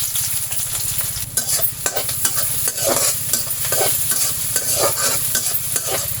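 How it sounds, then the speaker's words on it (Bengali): Chopped onions frying in hot oil for a carp fish curry, a loud close sizzle with stirring scrapes and a steady low hum underneath, no voices. "পেঁয়াজগুলো আমরা ততক্ষণ ভাজবো যতক্ষণ হালকা লাল না হয়।"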